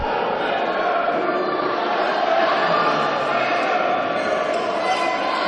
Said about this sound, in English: And hear that cheer from the crowd